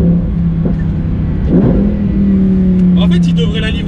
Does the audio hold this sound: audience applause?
no